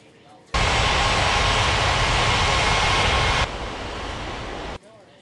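An airliner takes off in the Unmatched Air Traffic Control game at Ngurah Rai Bali International: a loud, steady roar of broadband engine noise that starts abruptly, holds for about three seconds, then drops to a slightly quieter rumble before cutting off.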